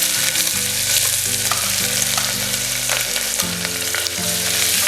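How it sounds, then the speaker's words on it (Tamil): Spices, curry leaves and onion fry in hot oil for a vegetable kurma, a dense, loud, steady sizzle with no voices. "இப்போ போட்ட உடனே நல்லா பொரிய ஆரம்பிச்சிடுச்சு."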